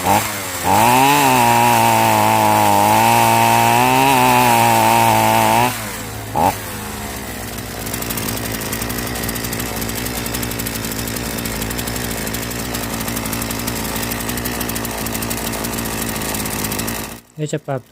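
A 3800 chainsaw engine revs loudly and steadily, then drops to a rough, sputtering, sluggish run that continues for a long stretch before cutting off, during carburetor adjustment after cleaning.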